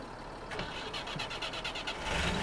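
Truck engine in the MudRunner off-road game cranks with rapid rhythmic turnover pulses, then catches into a steady, slightly rising idle rumble, moderately loud with no talk.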